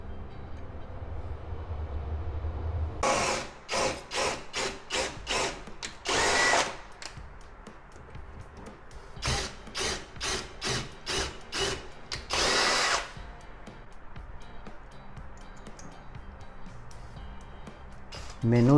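A power drill drives a large screw into wood in two runs of rapid, pulsing bursts, loud and close, separated by a quieter pause, with brief talk around it.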